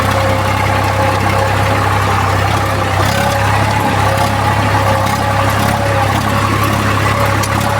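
A tractor engine runs steadily at a constant idle-like throb, loud and close, with a continuous low drone and no breaks.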